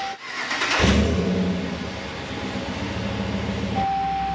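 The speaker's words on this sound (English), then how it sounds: "One more time, and starting the engine." A 2019 Ram 1500 with a 5.7 V8 cranks briefly and catches, settling into a steady, loud idle that rumbles on close by with no talking.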